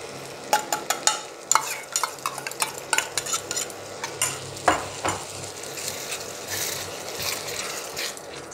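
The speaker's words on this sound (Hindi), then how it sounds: "अब इसको हिलाते हुए तब तक पकाएंगे जब ये दही अपनी लिक्विडिटी छोड़ देगा" An onion curry with spiced yogurt of red chilli, turmeric, salt and mint is stirred in a pan, with a quick run of spatula scrapes and clinks against the metal over a gentle sizzle, close and steady.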